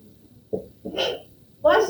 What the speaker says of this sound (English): Hate it when I sneeze under that mask